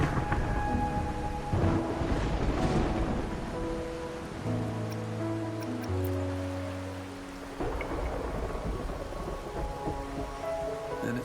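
Steady rainfall with rumbling thunder in the video game Wuthering Waves, a continuous wash of rain under rolling low thunder, mixed with soft sustained musical tones and no talk.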